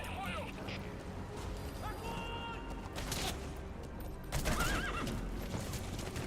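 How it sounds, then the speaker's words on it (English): D-Horse from Metal Gear Solid V: The Phantom Pain whinnies several times amid hoof clip-clop and game ambience, with a voice talking over part of it. "I had no idea you could bring D-Horse all the way down here"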